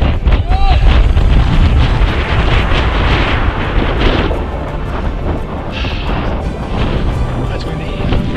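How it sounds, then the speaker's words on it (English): Strong wind batters the microphone at a mountain lookout as a loud, continuous roar with gusts throughout, and voices can be heard under it. "That's windy."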